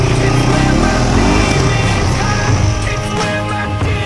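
Enduro motorcycle engine labouring hard on a climb, loud and close, its tone bogging and wavering as revs rise and sag without settling.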